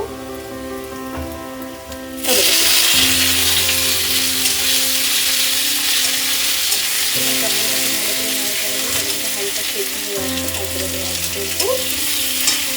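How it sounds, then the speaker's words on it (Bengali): Oil bursts into a loud, steady sizzle as onions hit the pan, crackling continuously with occasional stirring scrapes. "এটাকে একটু করে ভেজে নেব পেঁয়াজগুলো লাল হয়ে গেলে"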